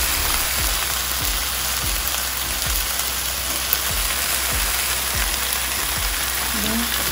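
Garlic and onion sizzle loudly and evenly in frying oil for Filipino-style chicken adobo, with soft knocks from stirring at a regular pace underneath.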